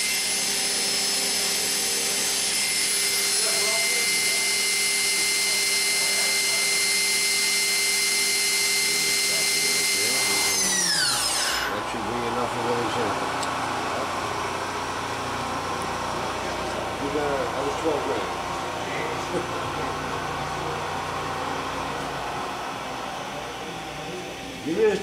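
A KIWA KNH-426X horizontal machining center spindle running at 12,000 RPM gives a steady, loud high whine with sharp tonal lines that glide down partway through, leaving a lower, rougher machine hum.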